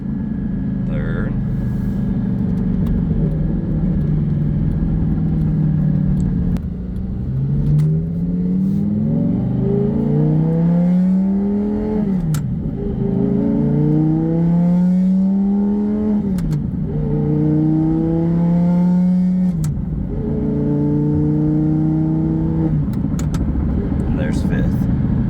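A 2012 Lamborghini Gallardo Super Trofeo Stradale with a gated manual conversion revs loudly and climbs through the gears, each shift dropping the engine note before it rises again in a repeated sweeping pattern, with a voice talking throughout.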